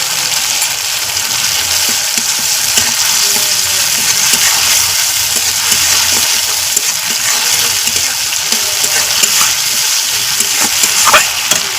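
Ginger paste sizzles loudly and continuously in a hot pan, a dense, close frying hiss with a few small pops and spatters near the end.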